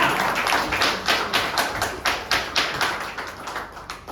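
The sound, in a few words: audience applause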